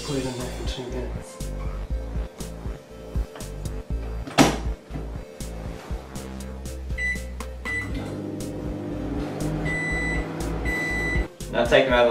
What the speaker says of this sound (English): Let's bang it in the microwave.